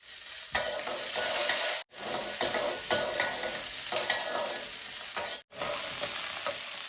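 Green chilies frying in hot oil, a loud, dense crackling sizzle with repeated stirring scrapes, broken by two brief silent gaps, with nobody speaking.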